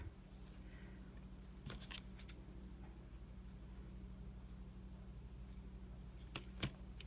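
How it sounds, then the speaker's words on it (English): Scissors trim a homemade cancellation stamp in a few quick, faint snips spread over a quiet, steady background hum, with no talking. "So I'm going to go ahead and just try and trim that out a little bit."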